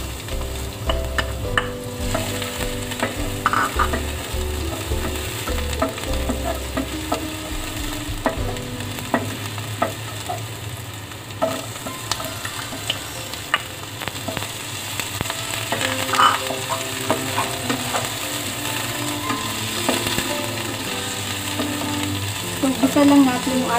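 Garlic and onion sautéing in a pan for beef curry: a steady loud sizzle runs throughout with frequent clicking scrapes of a utensil stirring, close up, with a low mechanical hum underneath and no talking.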